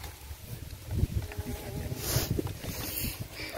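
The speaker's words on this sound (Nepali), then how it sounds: "कस्तो राम्रो हावा आएको" Wind gusting outdoors beside a pond, a steady low rumble and buffeting across the microphone, swelling slightly midway, with faint background activity.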